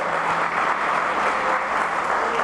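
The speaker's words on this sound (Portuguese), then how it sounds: "Pode dar aplauso ao Senhor." Brief, steady applause rises from a church congregation during a sermon, a dense hiss of many hands clapping together, evenly sustained and moderately loud with no talking over it.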